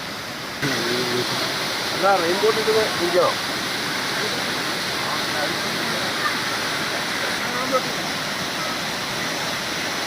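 A waterfall at the Thusharagiri entrance roars as a constant, loud broadband rush; a voice speaks briefly over it near the start.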